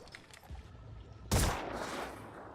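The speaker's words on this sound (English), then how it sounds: "Let's go ahead and keep firing" A single loud weapon shot in Phoenix Point bursts out after a quiet stretch, its blast trailing off into a sustained rumbling decay.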